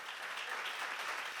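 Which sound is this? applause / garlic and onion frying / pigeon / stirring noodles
applause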